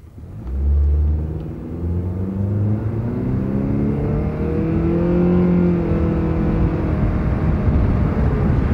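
A Honda with a non-turbo 2.4 liter engine and CVT accelerates hard, its loud, close engine drone climbing smoothly in pitch with no shift breaks over a steady rumble.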